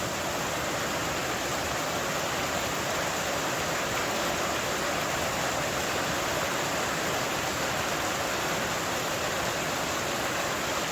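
Floodwater rushing during a thunderstorm on a lambing farm, water rising over a tank and onto a road, a dense, steady roar of flowing water with no voices.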